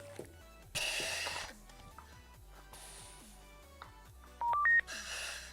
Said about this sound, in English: That tells me that it's paired, that little doo-doo-doo.